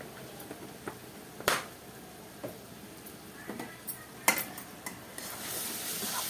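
Homemade garam masala being stirred into a cabbage tomato curry in a pan, with soft scraping and sizzling plus a couple of sharp spoon clinks against the pan, close by.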